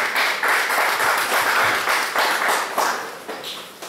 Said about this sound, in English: A round of applause for Nico.